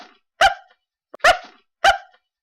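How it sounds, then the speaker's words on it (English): Three sharp dog barks, loud and close, spaced about a second apart with brief silence between them. "A little barking never hurt anyone."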